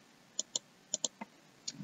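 A computer mouse clicks about seven times at an uneven pace while building a WordPress website. The clicks are sharp and close but faint, and there is no talk.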